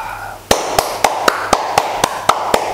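Nine or ten crisp hand claps ring out one at a time in an even, steady rhythm after a brief quiet moment. They sound close and loud, with no talking.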